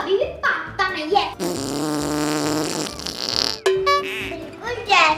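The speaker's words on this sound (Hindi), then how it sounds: "बिल्कुल जैसे अभी आपने पादा।" A comic fart noise from a kids' pretend doctor play scene, a long buzzy blast lasting a couple of seconds, with children and adults talking excitedly before and after it.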